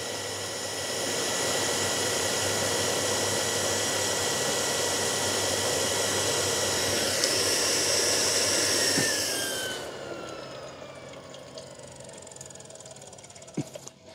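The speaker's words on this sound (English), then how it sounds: "So I'm putting the pipe there, opening it up. The pump switches on." A household water pump cycling with a pressure tank while a hose pipe is opened: a steady, loud broadband motor whir with a tonal whine runs for about nine seconds, then cuts off, leaving faint water flow and small clicks.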